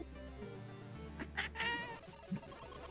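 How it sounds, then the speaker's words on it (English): An angry house cat gives drawn-out, whining meows and a short caterwaul, close and moderately loud, over a low steady hum with no talking. "Yeah, the other cat wants attention. That's why my cat's angry."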